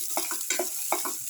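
Red chili frying in a pan for a cumin shallot chili dip, with bursts of sizzling and stirring scrapes in an uneven rhythm, close and moderately loud with no talk.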